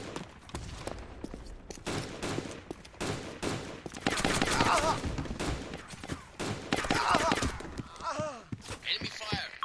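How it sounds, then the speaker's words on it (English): Enemy gunfire in the tactical shooter Insurgency: scattered sharp shots and short rapid bursts crack at irregular intervals, some close and punchy, others more distant, while players talk over the firefight. "Enemy fire."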